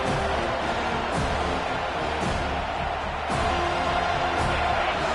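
A home crowd at an American football game roars in a steady, dense wash of noise on a third-down defensive play, swelling slightly toward the end.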